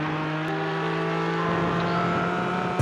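A race car at Road Atlanta accelerates through a corner, its engine a steady, loud, high drone heard from on board, with a brief sharp noise near the end.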